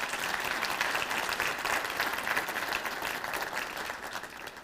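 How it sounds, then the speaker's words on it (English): An audience gives college staff a warm, sustained round of applause at a State of the College address, even and continuous from start to finish with no talk over it. "Would you please join me in giving a warm round of applause for our staff?"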